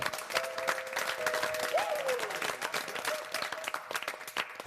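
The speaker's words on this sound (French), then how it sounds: "j'aimerais que vous donniez une bonne main d'applaudissement à ces 3 lofters" A studio audience on the Quebec reality show Loft Story applauds three contestants, with a sustained wash of clapping and crowd noise at moderate distance, a faint tonal sound drifting over it.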